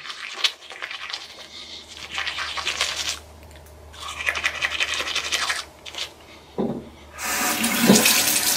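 Tap water runs over a toothbrush loaded with Colgate toothpaste at a bathroom sink, a close hissing stream in several bursts with brief pauses and scratchy bristle sounds between them.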